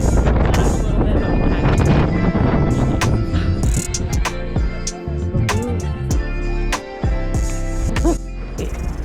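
Strong wind buffets the microphone at Cape Point in a South African national park, a loud continuous roar and rumble throughout with gusty surges, while people talk over it.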